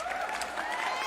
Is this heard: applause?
yes